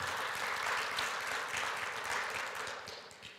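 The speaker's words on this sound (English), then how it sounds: "give them a hand clap of praise" Church congregation applauding their pastors, a full room of clapping that swells and then gradually fades, steady and fairly close.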